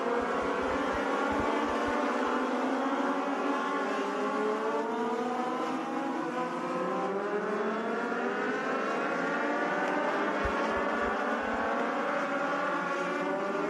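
A pack of Legend race cars roars together on a racing restart, loud sustained engine drone with rising harmonic sweeps as they accelerate, filling the whole stretch without pause.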